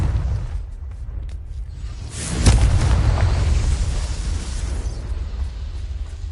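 A Confringo fire spell explodes in the video game Hogwarts Legacy, a single loud booming blast that bursts in suddenly and then rumbles and fades slowly over a low background.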